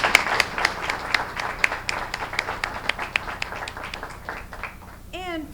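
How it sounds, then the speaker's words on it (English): A school audience claps in a brief round of applause at a student of the month award, the claps thinning out and fading over a few seconds, with a voice speaking at the end. "a great round of applause for y'all"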